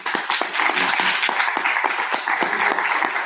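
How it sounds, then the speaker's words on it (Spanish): Audience clapping at an autism and Rett syndrome awareness event, a short burst of dense, steady applause from a close crowd lasting a few seconds. "Un aplauso, por favor."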